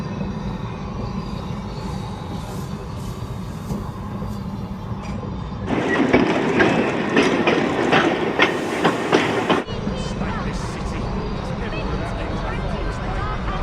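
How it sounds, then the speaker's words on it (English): A mail train pulls into a station with a rhythmic clickety-clack of wheels over rail joints. The clatter surges louder midway and then eases off, with voices heard over it. "Duke arrived at the station with his mail train."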